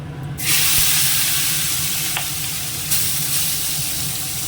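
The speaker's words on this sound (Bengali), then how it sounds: "অনেকটা কষানো হয়ে গেছে" A spice mixture for a fish dish hits a hot pan and bursts into a loud, close sizzle. The sizzle then stays even, with a few faint clinks of stirring and no talk.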